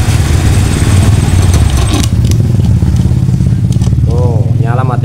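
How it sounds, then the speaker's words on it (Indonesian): A Honda Beat Deluxe scooter with an engine fault is kick-started, runs briefly and dies, its motor chugging loudly throughout with a dip as it stalls; someone talks over it. "Ini motor nyala. Wah, mati lagi Pak."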